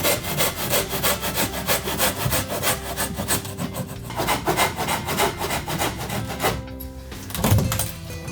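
A hand saw cuts through wooden baseboard and wall framing while an old house is opened up to join a new extension. The strokes are steady and rhythmic, close and loud, with no talking.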